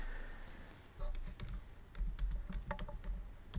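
Computer keyboard typing, quiet clicks in quick irregular bursts with brief pauses, close and soft against a low room hum.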